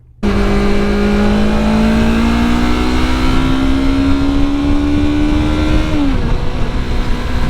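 Motorcycle ridden on an open road with a helmet-mounted camera, a steady loud engine drone holding one pitch throughout and dipping slightly near the end, with constant wind rush and no talking.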